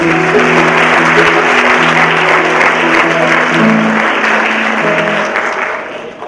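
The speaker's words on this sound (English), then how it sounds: "So parents, let me give you a round of applause." An audience at a high school African American Culture Club rites of passage ceremony gives the parents a loud, sustained round of applause, with tonal music or voices sounding beneath the clapping before it begins to fade at the end.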